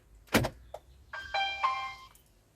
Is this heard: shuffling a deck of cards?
no